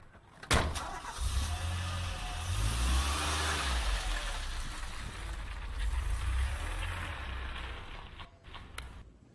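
A car engine revs and idles in a commercial, a close, continuous low rumble that swells and settles, with a sharp click near the start and no talk.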